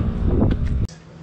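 Strong wind gusting on a mountain overlook at Pine Hills in Tanay, Rizal, a loud close roaring buffet across the microphone that cuts off abruptly into quieter air.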